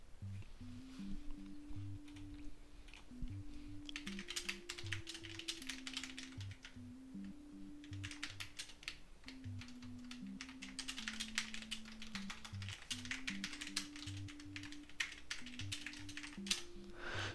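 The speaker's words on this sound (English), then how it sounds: "to typing." Steady typing on a computer keyboard while writing a book, rapid soft clicks in continuous bursts, close and fairly quiet, over a faint repeating synth melody.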